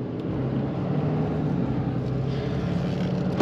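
A 2021 Ram 3500 HD dually pickup with a Cummins inline-six diesel runs steadily, a low, rumbling drone heard from inside the cab, even and continuous with no talking.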